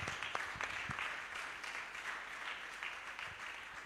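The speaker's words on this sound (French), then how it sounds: "Donne-lui une offrande d'acclamation." Church congregation applauding during a French-language service, a steady wash of clapping with a few sharper claps standing out, moderately distant.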